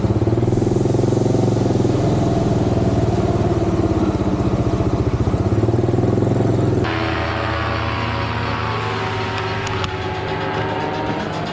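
An off-road motorcycle in the Colombian jungle runs with a loud, steady buzzing engine drone up close, then the sound abruptly changes and thins as it rides off, with a lighter mechanical whine continuing.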